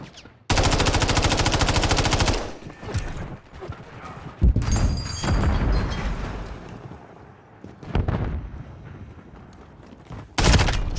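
Rapid automatic gunfire in a video game team deathmatch, a loud sustained burst followed by scattered shots and bangs amid combat noise, with brief voices in the background.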